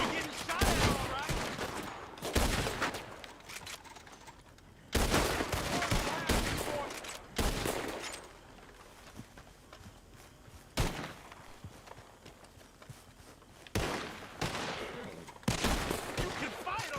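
Bursts of gunfire from a Red Dead Redemption 2 shootout crack out in repeated volleys, sharp close shots clustered in rapid runs with brief gaps between, under occasional voices.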